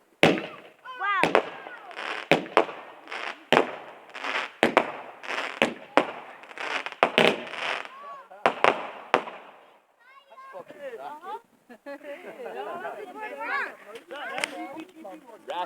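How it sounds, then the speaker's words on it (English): Bonfire night fireworks burst in a rapid series of sharp, loud bangs and crackles, then give way to fizzing and crackling tails while excited voices talk and exclaim over the display. "The fireworks."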